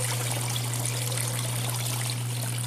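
Water flows steadily over a gold hog mat on a Miller table during gold panning in the Uwharrie National Forest, giving a continuous close trickling wash with a low constant hum underneath.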